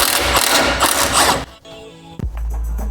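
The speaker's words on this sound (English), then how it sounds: "So now I'm going to undo this bolt." A ratchet turns a bolt on a Ford Focus Mk1 suspension, giving a fast run of close, dense clicking, then a pause with a faint metallic ring and a sharp clack before low background noise.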